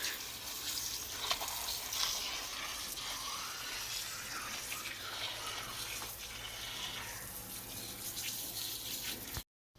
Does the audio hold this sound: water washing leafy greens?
yes